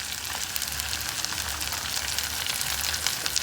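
Ginger garlic paste and cashews fry in oil inside a rice cooker for veg biryani, giving a steady, close sizzle with crackling pops throughout.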